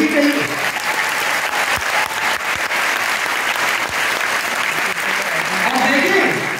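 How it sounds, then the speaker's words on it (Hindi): A big crowd claps in honour of Abhimanyu during a talk on Hinduism and the Ramayana, a thick, steady round of applause that fills the whole stretch without letting up. "अभिमन्यु के सम्मान में तालियां बजनी चाहिए।"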